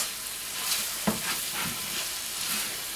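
Moussaka sauce with parsley simmering in a pan gives a steady, soft, close sizzling hiss, broken about a third of the way through by a single sharp knock like a spoon against the pan, followed by faint stirring sounds.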